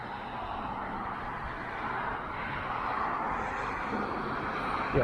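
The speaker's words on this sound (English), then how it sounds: "Hear cars." Cars passing on a busy hillside road at night, a steady broadband rush of traffic heard from the roadside, rising slightly as vehicles draw nearer.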